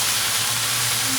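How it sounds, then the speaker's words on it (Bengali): Soybean and vegetable curry cooks in a pan, giving off a steady, close sizzle and steamy hiss that runs evenly and loudly with no pauses. "ওই জন্য এখন রান্না হচ্ছে সোয়াবিনের সবজি"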